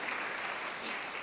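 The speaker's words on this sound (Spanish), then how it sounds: "Démosle un aplauso al Señor" A congregation at a church service applauds, giving a brief dense wash of hand clapping from many people that is steady and moderately faint throughout.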